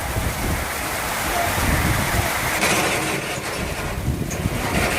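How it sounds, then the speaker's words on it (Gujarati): Heavy rain pours down with strong gusting wind in a mini storm at Pipalva, Gir, a dense steady roar with wind buffeting the microphone throughout. "અત્યારે પવન સાથે વરસાદ ચાલુ થઈ ચૂક્યો છે અને અંધરાધાર વરસાદ છે"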